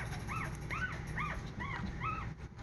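Two-week-old puppies with newly opened eyes whimper in a steady series of high, rising-and-falling squeaks, about five cries close by over a constant low background rumble.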